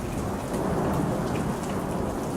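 Heavy monsoon downpour pounds steadily and densely, a dense roar of rain with a low rumble of thunder beneath it, constant and loud throughout, with no voices.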